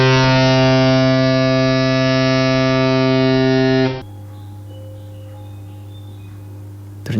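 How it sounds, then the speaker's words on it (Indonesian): A loud ship horn at sea blares as one long steady tone, then drops to a quieter sustained drone with faint background noise. "horn itu bunyi tapi kenceng banget."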